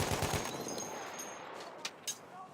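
Rapid gunfire from a Halo match in an Xbox One tournament, a dense burst of shots at the start fading to scattered sharper cracks later, with no voices.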